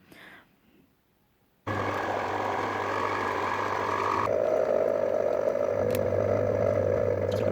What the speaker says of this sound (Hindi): आप ये तमाम चीज़ें इकट्ठी भी बीच में डालकर इनको ग्राइंड कर सकते हैं